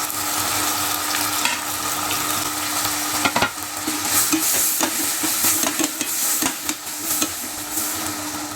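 Tomatoes and green chillies sautéing in oil in a pan for vegetable biryani, a close, steady sizzle broken by repeated clacks and scrapes of a stirring spoon.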